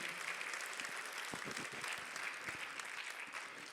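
A congregation at a united Christian church service in Calama applauds the Lord with steady, even clapping for nearly four seconds. A few sharper, closer claps stand out, and the sound is fairly quiet, with no speech over it.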